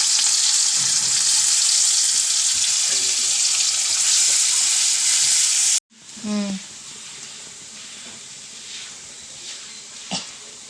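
Onion, garlic, shallots and curry leaves hit hot oil for drumstick-leaf thoran, giving a loud, steady hissing sizzle that cuts off sharply, followed by quieter frying and occasional stirring clinks.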